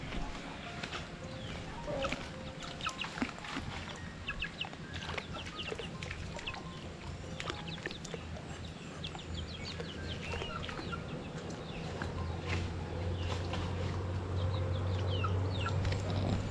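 Chickens cluck softly in scattered bursts beside a countryside rice field, against a busy outdoor background, with a low steady hum rising toward the end.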